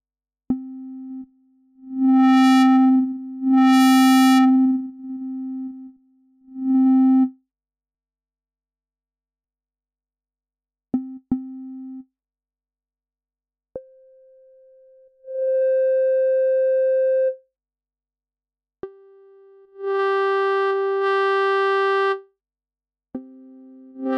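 Logic Pro's ES2 synthesizer moves along a vector path with filter modulation, sounding as pure sustained tones that shift pitch and brightness in separate bursts and steps, with silent gaps between them and no voice present.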